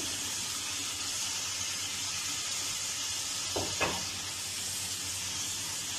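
Fried chicken going into a Kashmiri chicken masala gravy, a steady soft sizzle and hiss with a brief clatter of a spoon or pot partway through, no voices.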